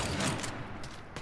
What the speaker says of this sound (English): maybe I'll pull out my gun so I don't die?